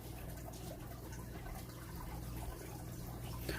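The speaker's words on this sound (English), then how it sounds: "Fish tank as well. So you probably hear like running water." Water runs continuously from an indoor fish tank, a faint, steady trickle and burble heard alone at low level throughout.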